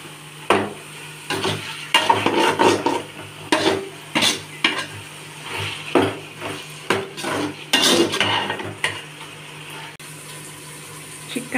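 Chopped tomatoes being sautéed in a pan for mushroom gravy: a spoon stirs and scrapes in repeated close strokes over a light sizzle.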